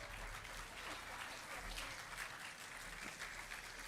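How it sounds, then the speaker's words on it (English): Live concert audience applauding an orchestra, a dense, steady wash of many hands clapping at a distance, faint and even across the whole stretch with no voices on top. "it's really awesome to hear your applause"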